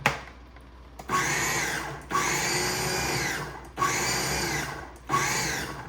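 A blender pulses basil and walnut pesto in four loud, close bursts of whirring motor grind, each about a second long and separated by short pauses.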